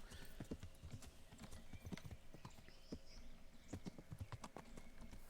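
Horse hooves clip-clopping on the ground in the medieval video game Kingdom Come: Deliverance, a steady, fairly faint trotting rhythm with a horse nearby and faint background ambience.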